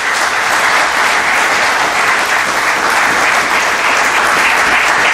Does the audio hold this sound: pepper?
no